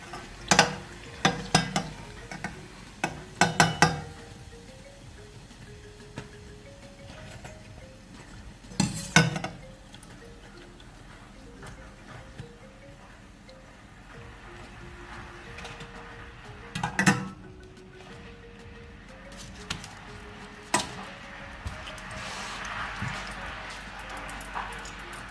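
Fried mandazi, cardamom and coconut milk doughnuts, scooped from hot oil with a metal utensil, giving scattered clinks and scrapes against the pan over a soft continuous sizzle.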